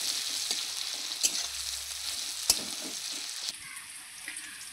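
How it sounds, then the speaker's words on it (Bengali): Chopped onion frying in oil in a pan while being stirred, a steady close sizzle with a few sharp clinks of the spatula, no talking. "পেঁয়াজটা দিয়ে আমি খুব সুন্দর করে নাড়চাড় করে নিচ্ছি। পেঁয়াজটা আমি লাল লাল করে ভেজে নেব।"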